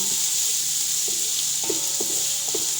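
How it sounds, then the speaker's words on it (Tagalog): Onions sautéing in a pan for a rice and chicken dish, a steady broadband sizzle with a few soft scrapes and knocks of stirring, close and alone without talk. "ayan natin maluto yung sibuyas bago natin ilagay yung ginger"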